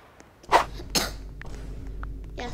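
A single short, sharp cough up close, followed by a softer throat sound and faint background noise.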